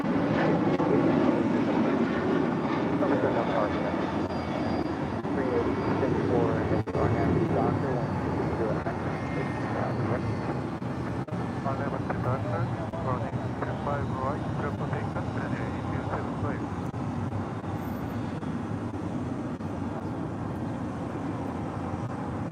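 A Delta 757-200 arriving from Newark and approaching LAX, a continuous broad engine roar and rumble that holds steady throughout, mixed with airport background and talk.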